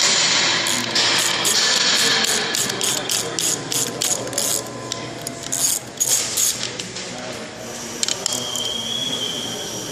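A ratchet wrench backs out the last bolts of a car's torque converter in close, rapid bursts of clicking, with pauses and small metallic clinks between the runs.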